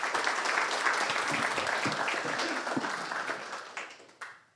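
A round of applause at a cybersecurity meetup, a steady wash of many hands clapping at moderate distance that thins out toward the end, with a few last isolated claps.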